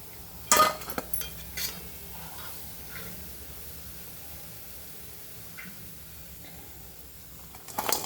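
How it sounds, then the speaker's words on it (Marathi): Fried moong, masoor and chana dal bhaji are moved onto a plate in a home kitchen, giving a few faint clinks of utensil on dish over quiet room tone, with a louder clatter near the start and end. "आता हे ना आपण प्लेटमध्ये काढून घेऊ"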